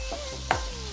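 Ground coconut paste drops into a hot pan with curry leaves for a Kerala-style raw papaya thoran, giving one brief sizzling hiss over a steady low background.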